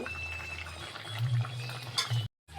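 Small chapila fish curry with potato and tomato simmering in a pot, a soft bubbling and gentle stirring close by, cut by a brief silent gap near the end.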